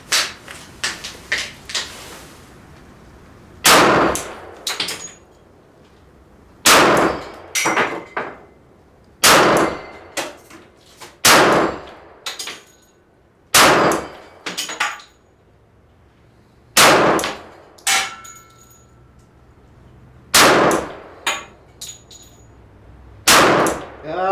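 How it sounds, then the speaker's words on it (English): A Glock 20 10mm handgun fires a series of spaced, sharp shots at 6-inch steel plates 15 yards downrange, each report followed by a bright metallic clang, with brief pauses between shots and no talk. "We've got some steel out there at distance, and we're going to shoot on that a little bit"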